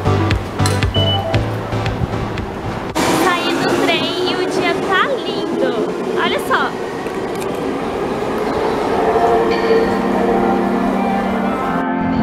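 A train at a Japanese station rumbles and clanks beneath busy station ambience, with announcement chimes and a steady loud drone, while a person talks over it.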